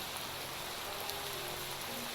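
Rain falls in the block-building survival game TerraFirmaCraft, a steady soft hiss of drops with faint scattered patters, continuous and even at low volume without any speech.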